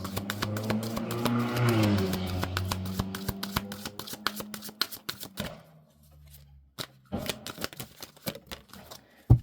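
Tarot cards shuffled in a riffling, crackling burst for several seconds, then softer separate taps and slaps as single cards are drawn and laid down, close and fairly loud with no talk.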